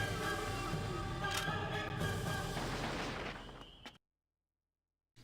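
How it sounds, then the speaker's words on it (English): Gunfire in the Xenosaga Episode 3 video game: heavy, booming shots with rumbling low blasts that run for about four seconds, then cut to sudden silence. "Gunshots."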